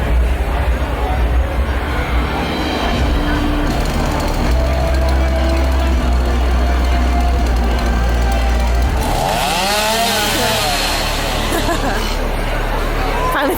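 A chainsaw revs loud and continuously at SeaWorld Orlando's Howl-O-Scream haunted event, a harsh droning roar over a crowd chattering in the background.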